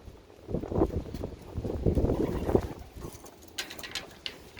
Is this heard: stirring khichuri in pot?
no